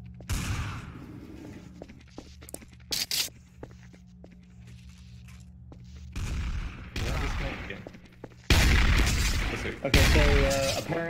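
Loud bursts of video game gunfire from a holy pistol come in separated clusters, with sharp cracks and heavier booms between quieter stretches.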